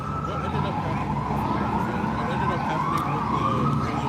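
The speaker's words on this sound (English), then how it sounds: "If they have another siren coming up and down here while I'm trying to do my live." An emergency vehicle siren passes along a city street outside a courthouse, its wailing tone rising and falling over steady traffic noise, moderately distant and continuous.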